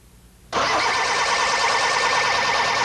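A car engine cranks on its starter motor, kicking in abruptly after a quiet moment and holding a loud, steady mechanical roar at close range.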